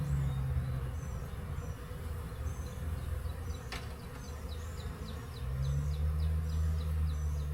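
Honeybees buzz around an open backyard hive during an inspection, a close continuous drone with low humming tones that fade and return, plus a few faint bird chirps in the background.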